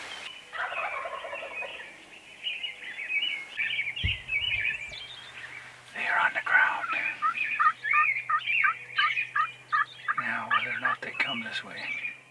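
Several wild turkeys gobble in rapid, rattling bursts close by in North Dakota, one call answering another, with a brief thump and a low hum partway through.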